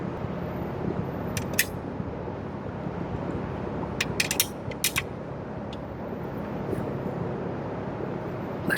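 An oil drain plug on a Honda Clarity is tightened with a 17 mm wrench, giving a few brief metallic ratcheting clicks in short clusters over steady background noise.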